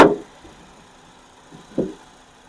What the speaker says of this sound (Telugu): ఇంజన్ చూసుకోండి. Engine beating.